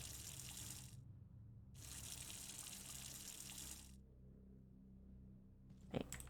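Water poured into a cooking pot in a farm kitchen, two sustained pouring streams separated by a pause, then a brief clink, close and fairly quiet.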